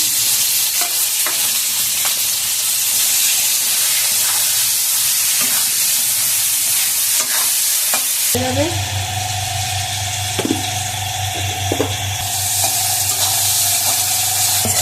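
Chopped onions hit hot oil already holding cumin seeds and two bay leaves for a home-style chicken biryani, setting off a loud, steady sizzle that continues close-up with occasional stirring clatter.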